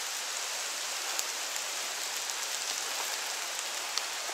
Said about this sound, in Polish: Więc bardzo duży deszcz